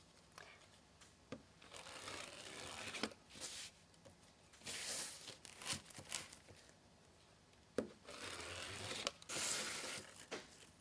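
Poly burlap being cut into 10-inch pieces for a poinsettia wreath, with scissors snipping and fabric rustling in several bursts, close and fairly quiet, separated by brief pauses.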